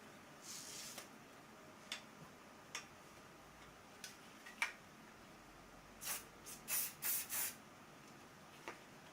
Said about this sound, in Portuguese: Vou pegar o spray fixador.